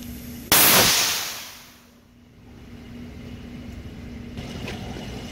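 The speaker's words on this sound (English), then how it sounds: "imagine you're driving and the side wall explodes like that" A car tire's sidewall bubble bursts with a single sharp, loud blast, followed by a hissing rush that fades over a second or two, then a steady low rumble of the vehicle.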